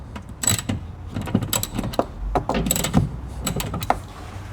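A socket wrench works M10 bolts on a Mazda CX-3 door, giving a steady run of close, sharp metallic clicks and ratcheting ticks with no talk.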